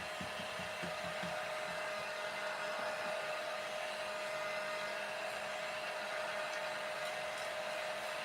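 A hair dryer blows steadily and loudly on a freshly spray-painted pink and white craft piece, a constant whooshing drone with a steady whine running the whole time, no talking.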